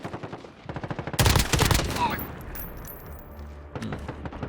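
In a shooter video game, bursts of automatic gunfire crack in rapid rhythmic volleys, with a loud dense burst in the middle, then more shots trailing off at moderate distance.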